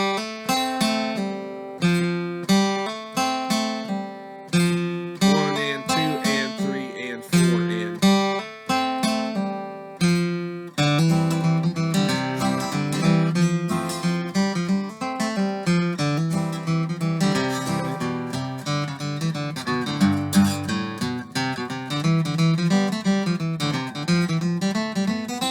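A clean electric guitar plays a lead phrase of plucked notes with pull-offs, some ringing out longer, then a denser, continuous melodic run; no voices.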